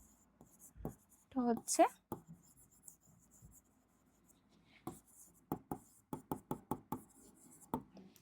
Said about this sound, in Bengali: তাহলে এখানে আর একটা আমরা একটু লিখে নিই